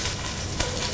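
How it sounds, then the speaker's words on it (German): Carrots, celery and onions frying in a pan right after beef roulades come out, a steady, loud broadband sizzle lasting throughout with a brief sharper crackle midway. "Direkt im Anschluss wird das Wurzelgemüse angebraten."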